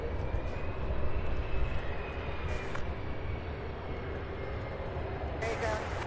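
A Boeing 747 at Louisville airport gives off a steady broad engine roar, continuous and fairly loud throughout, while radio chatter from air traffic control sounds faintly underneath.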